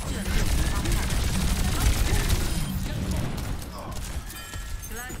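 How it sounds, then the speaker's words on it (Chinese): Enhanced gun firing in the video game Sky: Children of the Light, a dense, rapid stream of chirpy electronic shots layered over busy game sound, loud and continuous throughout. "被强化后的枪声音不一样哎"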